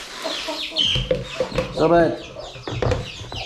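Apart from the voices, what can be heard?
chickens clucking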